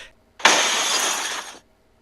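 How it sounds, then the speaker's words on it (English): A taxi cab's back window glass shatters in one sudden loud burst that sprays into a dense crackling spill of breaking glass for about a second, then cuts to silence. "Suddenly, the back window of the taxi cab shatters"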